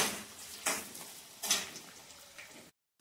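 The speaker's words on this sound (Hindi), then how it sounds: "प्याज, लहसुन और मिर्च, अब इसको हम भून लेंगे" Onion, garlic and chili are being sautéed in a pan, heard as a soft sizzle broken by a few sharp clinks of a utensil against the pan, then sudden silence at the end.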